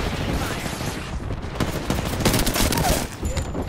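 Air strike explosions mixed with gunfire in the shooter game Apex Legends, a dense continuous rumble of blasts and rapid shots with no clear gaps, loud and close.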